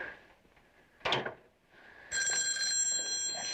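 A telephone bell rings loud and steady in a scene from a detective drama, starting partway through after a brief thump like a door or drawer, with no talking.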